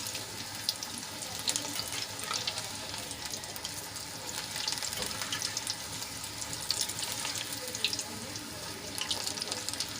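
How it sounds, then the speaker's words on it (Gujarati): Chili strip fritters (bhajiya) fry in hot oil with a steady, close sizzle and crackle that runs evenly throughout, with no talking. "ભજીયાની તરત તળાઈ જશે અહીંયા તમને ક્રિસ્પી પસંદ હોય તો તમે વધારે તળી શકો છો"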